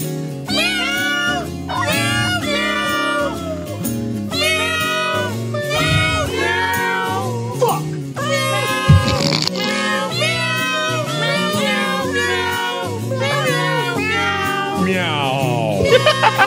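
A novelty recording, with cat meows pitched and sequenced into a jingling holiday tune over music, loud and continuous, with the melody carried almost entirely by meows.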